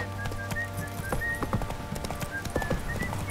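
Roach, Geralt's horse in The Witcher 3, gallops with a steady, close clip-clop of hooves over a game soundtrack, and a brief whinny and a quick word from a voice come through partway.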